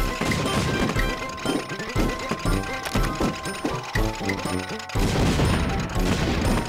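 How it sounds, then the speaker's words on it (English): Rapid bursts of explosions and crashing impacts from Wii Play Tanks, the toy tank game, pound in quick clusters, loud and close, one after another with brief gaps between volleys. "All of those explosions"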